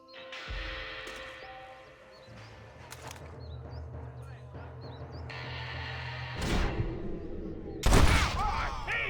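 Gunfire in the Western video game Red Dead Redemption: rapid volleys of shots crack out over sustained game music and ambience, with hoofbeats and a loud burst of shots near the end.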